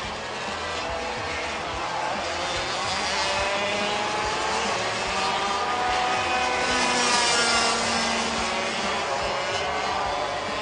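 A racing kart in a junior kart race passes while completing a lap, its high buzzing engine droning steadily with a slight rise and fall in pitch as it goes by, mixed with ambient track noise.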